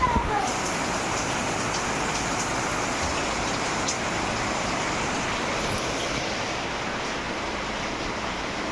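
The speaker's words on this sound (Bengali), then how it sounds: "কি অসম্ভব জোরে বৃষ্টি এসেছে" Very heavy rain pours down at night in a dense, unbroken roar that stays loud and even throughout, with no voices over it.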